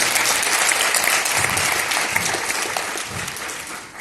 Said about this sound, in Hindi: सभी पेरेंट्स ने यहाँ जोरदार तालियां हो जाए